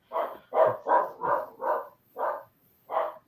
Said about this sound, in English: you've got a dog and she barks at anything that moves